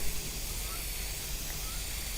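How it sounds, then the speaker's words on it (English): A Krylon UV-resistant clear spray can hisses in a steady, fairly quiet stream for a couple of seconds. "And now I'm going to spray my UV resistant clear by Krylon"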